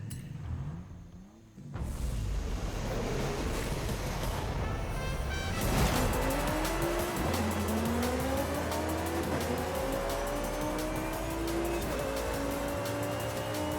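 A Sesto Elemento supercar in Forza Horizon 5 starts quietly, then its engine roars up loudly and climbs through repeated gear shifts, rising revs with faint tire squeal, close and steady with no talk.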